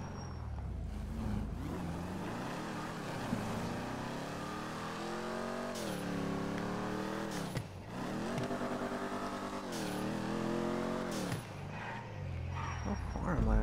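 Race car engine in a driving video game, loud and continuous, revving up through repeated gear shifts with rising pitch sweeps and brief dips between them.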